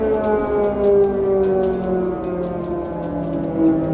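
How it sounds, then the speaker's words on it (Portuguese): Air raid siren wailing through the night in Kyiv, Ukraine, a steady, sustained tone rising and falling slightly, carried over a continuous low background for the full stretch without any talk. "Esse é o momento que a sirene soou no meio da noite."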